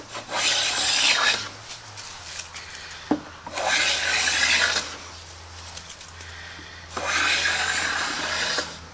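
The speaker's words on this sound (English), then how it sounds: "So you start out just working your way across, taking nice, smooth, long shavings." A hand plane takes long, smooth shavings across a wooden toolbox part in three rasping strokes, each a loud hissing scrape of about two seconds, separated by short quiet pauses.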